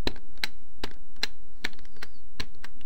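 Sharp, isolated clicks of the Start key being pressed on a computer keyboard, about eight taps at an uneven pace, close and fairly loud.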